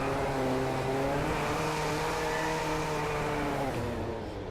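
A race car engine in the Driveclub racing game, on a Japan track, revs loud and steady with rising and falling pitch throughout, easing off slightly at the very end.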